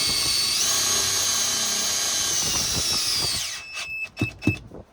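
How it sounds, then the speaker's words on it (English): A power drill whines at high, steady pitch, driving a self-drilling screw with a rubber-sealed washer during a console table install. It winds down near the end, followed by a few short knocks and clicks close by. "now we're going to hit the last self-drilling screw on this side"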